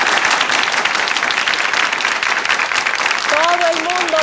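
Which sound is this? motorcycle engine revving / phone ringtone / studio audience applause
studio audience applause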